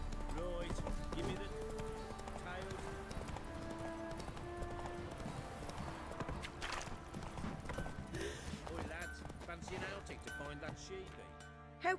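Roach the horse's hooves clip-clop steadily in The Witcher 3, a continuous trotting rhythm set against dense game music and ambience, with voices talking over it.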